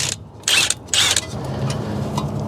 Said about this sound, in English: I'm gonna remove this 12mm bolt so we can hang that up out of the way